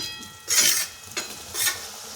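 Chhana pieces slid into hot oil for rasjhuri, giving short bursts of frying hiss and spatter, loud and close, with quieter sizzling in between.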